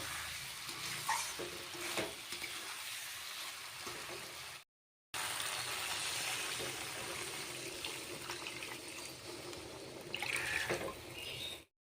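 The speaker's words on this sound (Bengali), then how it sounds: "ভালোভাবে কষিয়ে নিয়েছি, এবার জল দিয়ে দিব।" Fish curry masala sizzling and being stirred in a pan as water is poured in, a soft, steady frying hiss with light scraping and a brief gap partway through.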